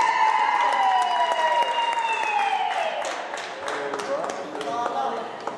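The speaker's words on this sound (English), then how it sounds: "A round of applause, please." An audience applauds at the signing of South Africa's BELA education bill into law, a continuous mass of clapping with voices and tonal calls mixed in that thin out toward the end.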